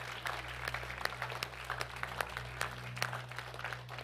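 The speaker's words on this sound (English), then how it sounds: "one more clap offering to the King" Church congregation applauding at the close of a Father's Day service, a steady wash of clapping with scattered louder claps over a low hum, moderately distant and without talk.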